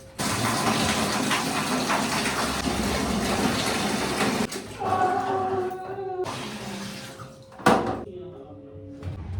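Water gushes steadily into a tub for soaking a bag, a loud continuous rush that cuts off partway through, after which someone speaks over quieter trickling and household sounds.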